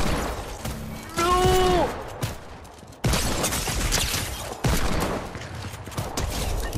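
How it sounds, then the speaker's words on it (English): Rapid gunfire from a double hand cannon in the Fortnite video game, several loud, overlapping blasts that come in bursts with short gaps between them. "I'm destroying everyone with this double hand cannon"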